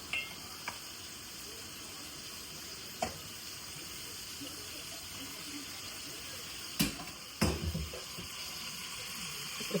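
Mutton pieces fry in a pan with onions, tomatoes and ginger-garlic paste, a soft steady sizzle with a few sharp clinks of stirring, faint and continuous.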